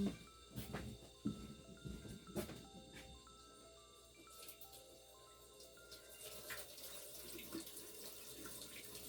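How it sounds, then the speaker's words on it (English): Water being poured and drained off soaked flower seeds into a sink, a close splashing trickle that is loudest at the start, with a few sharp clinks, then settles into a steady, softer running flow. "I'll drain the water off of them."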